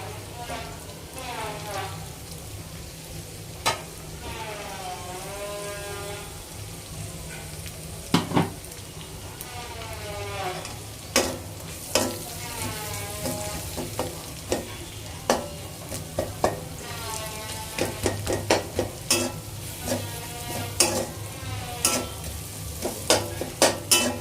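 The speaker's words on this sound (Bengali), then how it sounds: "রসুনটা একটু ভেজে নিতে চাচ্ছিলাম, রসুনটা দিয়ে দিচ্ছি" Garlic fries in a pan for seafood fried rice, a steady sizzle broken by repeated sharp clinks and scrapes of stirring, with someone talking intermittently over it.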